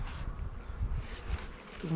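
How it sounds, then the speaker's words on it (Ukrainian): A dense, continuous buzz of many honey bees fills the air at an apiary, steady and close with a low droning hum. "Зараз багато бджоли в полі"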